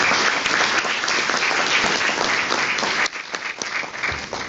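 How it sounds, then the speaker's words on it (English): An audience applauds at a chamber of commerce business breakfast, a dense burst of clapping that holds steady for about three seconds, then thins and tapers off. "If we can give them a round of applause."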